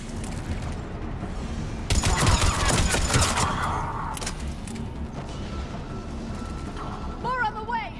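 Bursts of gunfire and mechanical clatter fill a firefight in the video game Mass Effect 3, rising sharply midway. Shouted voices and game noise run underneath throughout.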